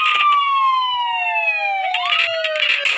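Emergency vehicle sirens in the video game Emergency HQ as medic and tow truck units arrive; loud, close electronic siren wails with long descending sweeps and a rising tone near the end, alone without talk.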